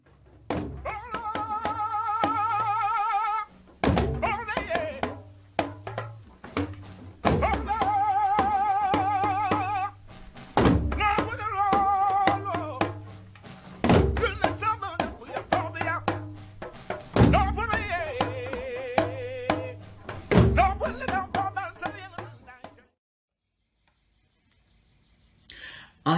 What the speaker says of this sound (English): the two lunga players are accompanying the singer